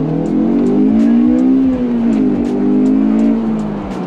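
JDM car accelerating hard from inside the cabin, a loud engine note climbing steadily over four seconds with a rising, strained tone.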